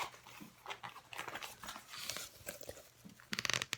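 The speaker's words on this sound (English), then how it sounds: "Let's open up the zipper." A zipper pulled open on a bag from a Nordstrom Rack haul, a series of short, close, crisp scratchy bursts with a brighter rasp toward the end.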